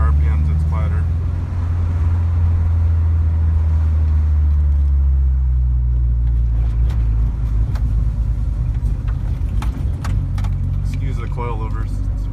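A Subaru Impreza 2.5RS GC8 fitted with a Borla exhaust and coilovers drives along, giving a steady loud low engine and exhaust drone with road rumble throughout and a few faint pops or rattles.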